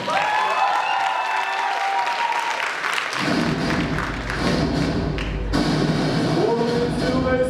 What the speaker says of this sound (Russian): Под ваши громкие аплодисменты